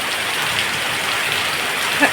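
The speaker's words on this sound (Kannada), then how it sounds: "ಅಷ್ಟು ಮಳೆ ಬರ್ತಾ ಉಂಟು" Heavy rain pours down in a steady, dense hiss that fills the whole stretch, with one small knock near the end.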